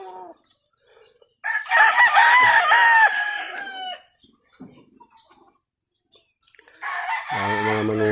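Roosters crow loudly at a game fowl farm, one long crow close by and another beginning near the end, with faint clucks between in an otherwise quiet setting.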